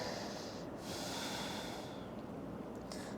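A faint, breathy exhale during an aerial yoga hammock stretch, soft airy breathing close to the mic with a couple of gentle bursts of breath and no speech.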